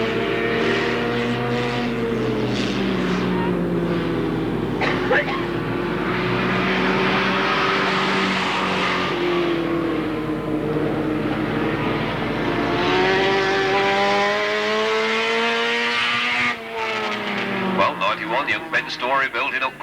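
Race car engines drone and whine with shifting pitch as the cars round the pit bend at an Alwalton race meeting, heard steadily beneath a commentator talking throughout.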